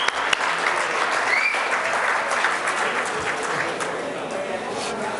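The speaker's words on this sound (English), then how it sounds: "A big round of applause for Basil" An audience at an awards evening breaks into sustained applause, a thick, even roar of many hands clapping throughout, with some faint voices mixed into the crowd.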